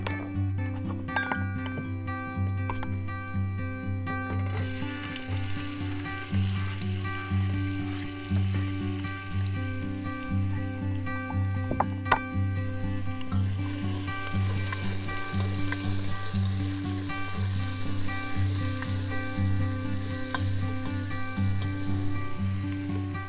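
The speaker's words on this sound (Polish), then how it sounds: "I kiedy masło się rozpuści, smażymy naszą cebulę i czosnek." Steady loud sizzling of onion and garlic frying in butter in a pan, continuous crackle with occasional clinks of a utensil, close up and without talking.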